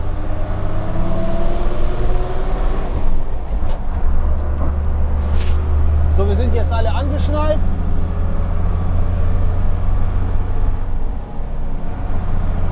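An old IVECO Magirus all-wheel-drive former THW truck drives with its rear section open, giving a loud, steady low engine and road rumble throughout, with someone talking over it.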